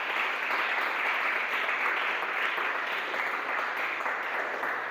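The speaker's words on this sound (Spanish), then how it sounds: "Dele palmas al Señor, hermano" Congregation applauding in a church service, a thick, even roar of many hands clapping at a constant level throughout, close and full with no voices standing out.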